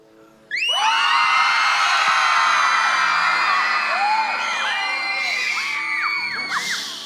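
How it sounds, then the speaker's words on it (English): A large audience at a live event erupts suddenly into loud, sustained screaming and whooping that carries on for several seconds before gradually thinning out. "Ladies and guys, scream."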